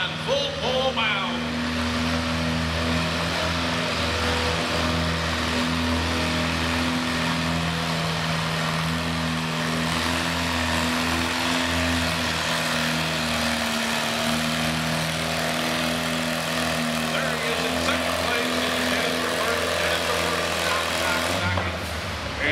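At a 2022 winter tractor pull in Chatham, Virginia, a Farmall C tractor runs at full throttle down the track. Its loud, steady, droning engine roar holds without a break, with announcer commentary over it.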